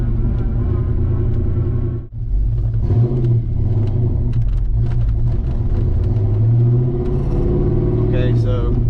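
A Fox-body car with new tailpipes and 3.73 gears, running rough before it warms up, pulls away with a loud, deep exhaust rumble that builds and revs. Someone talks over the engine throughout.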